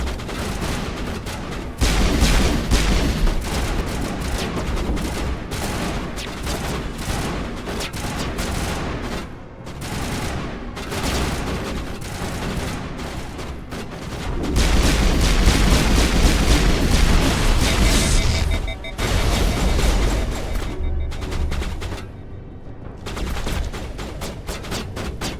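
Dense gunfire in the video game Mass Effect, rapid bursts of shots and booms with short pauses, loud and nearly continuous combat fire.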